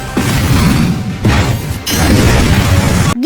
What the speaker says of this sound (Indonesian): Kapal itu pun meledak.